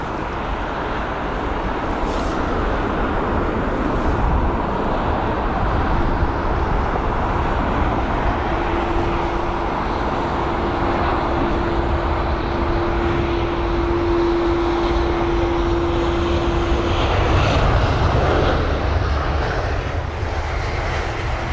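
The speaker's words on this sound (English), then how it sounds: "An A320-200 that's going to be." An Airbus A320-200 arriving from Gibraltar lands at London Heathrow on a windy day, its engines a loud, sustained roar that holds steady with a rising whine through the middle before swelling at the end.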